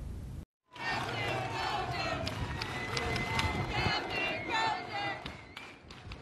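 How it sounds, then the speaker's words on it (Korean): Sailors of the nuclear aircraft carrier USS Theodore Roosevelt clap and cheer as their dismissed captain departs, a loud, sustained crowd of applause and shouting outdoors that starts abruptly after a brief silence. "경질된 핵 항공모함 루스벨트호의 함장을 승조원들이 박수로 배웅합니다"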